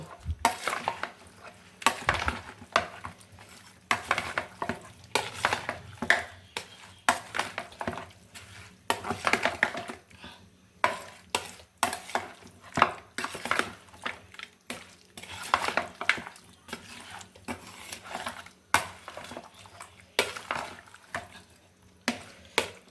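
Raw chicken pieces are worked by hand with ginger in a bowl, giving a long run of wet, squelching strokes and occasional clinks against the dish, fairly close and without talk.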